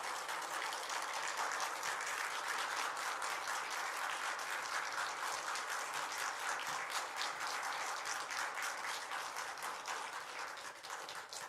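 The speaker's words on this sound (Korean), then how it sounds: "목사님 나오실 때 우리 큰 박수로 모시도록 하겠습니다" A church congregation gives the pastor a big round of applause at a Sunday morning worship service, a dense, steady clapping that fills the room and runs on without a break.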